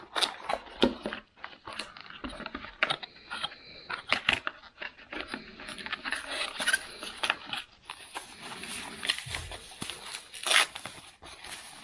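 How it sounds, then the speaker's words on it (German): Unpacking a film light from a parcel: repeated plastic rustling, crinkling and scraping with sharp handling clicks, close by, continuous over the whole stretch, with no talk. "Ich werde diese Filmleuchte erstmal auspacken"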